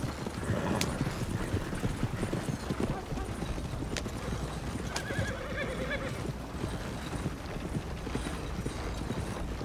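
Horses' hooves clip-clop steadily in the video game Red Dead, with a horse whinnying, some mechanical clanks, and someone talking over the scene.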